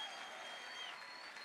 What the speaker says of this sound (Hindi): ये तालियां फिर गूंजनी चाहिए आपको अपने महबूब शायर के लिए।